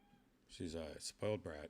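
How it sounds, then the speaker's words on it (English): A pet cat meows softly in a few short calls, faint and close, as a person talks. "You could hear her meowing."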